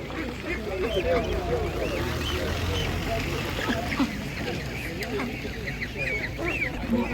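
Ducks quack and geese honk repeatedly amid a busy outdoor crowd at a village livestock market, with people talking nearby throughout.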